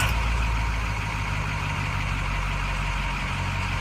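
A truck engine idles steadily and close by, a constant low rumbling drone with no change in speed and no voices.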